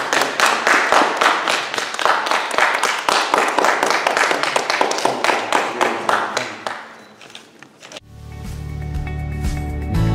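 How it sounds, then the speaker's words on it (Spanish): Audience applause at a Masonic Grand Lodge honours ceremony: a steady burst of clapping from a modest crowd that thins out and stops after about seven seconds, followed by a quieter hum of room noise. "Y un fuerte aplauso, por favor,"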